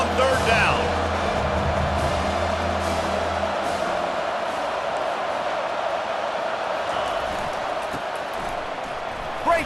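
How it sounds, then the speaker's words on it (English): Home crowd roaring in EA Sports College Football 25 as the defense tries to get a third-down stop, a dense, sustained stadium din holding steady throughout with a low rumble early on. "Here comes this home crowd as the defense tries to get off the field on third down"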